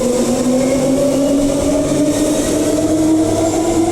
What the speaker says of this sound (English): Off goes the Midland train